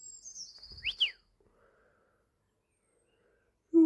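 A magpie gives a few short, sharp whistling chirps close by, falls quiet for a couple of seconds, then calls again.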